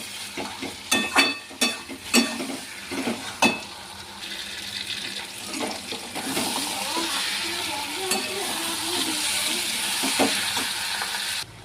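Fish fries in the oil it has released, opening with a few sharp pops and clinks before settling into a steady, close sizzling hiss with occasional stirring sounds.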